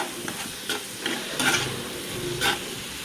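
Fish curry stirred in a pan with salt and chopped green chili, a steady sizzle of frying broken by a few sharp scraping stirs of a spatula, close and moderately loud with no talking.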